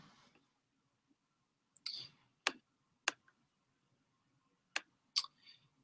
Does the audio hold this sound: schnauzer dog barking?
no